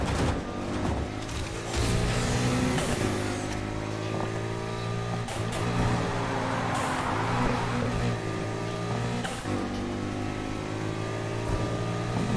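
Car engine revving steadily in the Need for Speed racing video game, a loud, continuous motor drone with shifting pitch that holds throughout with brief dips, with no talking over it.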